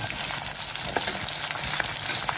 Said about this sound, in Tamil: கருவேப்பிலை போட்டு வதங்கிக்கணும்